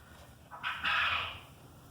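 A quail crows once nearby on a goat farm, a short bright call that rises in two quick parts and fades out over quiet background.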